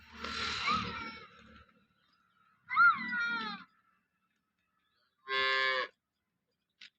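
Three short calls of a local dairy cow separated by silence, the first two warbling and uneven, the last a brief steady tone like a low moo, fairly close.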